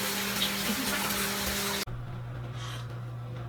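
Shower water runs steadily during a hair wash, a dense hiss that cuts off abruptly partway through and gives way to a quieter, lower drone.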